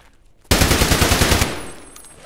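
Rapid automatic gunfire from a machine gun in a factory shootout video game, a loud dense burst of about a second after a quiet lead-in, then fading reverberation.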